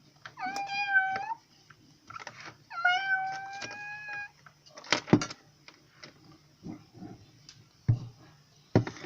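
Cat meowing in two long, drawn-out calls close by, followed by scattered knocks and thumps in a quiet room.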